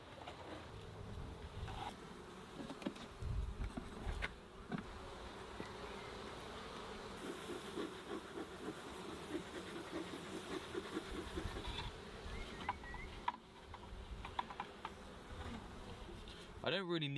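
Honey bees buzz steadily and loudly around an open beehive during a summer hive inspection, a dense continuous drone with no talking.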